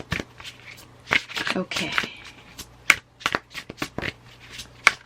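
An oracle card deck being shuffled, with bursts of riffling and card slaps close by, broken up by brief pauses; someone speaks briefly.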